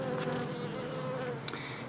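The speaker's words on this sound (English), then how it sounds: "I assume once it gets dark, the bees will again go inside the box" Honey bees hum steadily around a hive box as they gather at its entrance, a close, continuous buzz with a few individual insects swelling past.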